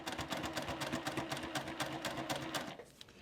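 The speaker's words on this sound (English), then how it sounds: "just sew along that edge nice and slowly" A sewing machine stitches along the binding edge of a quilt at a stitch length near 3, a fast even mechanical chatter close by that stops abruptly near the end.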